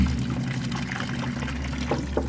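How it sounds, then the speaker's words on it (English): Fresh water poured to rinse an insect larvae container used for growing quail feed, a continuous splashing trickle over low background rumble. "I'm going to rinse it off thoroughly. Just clean, fresh water"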